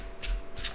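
A deck of cards being shuffled by hand, two quick papery riffling bursts close up, with no talking.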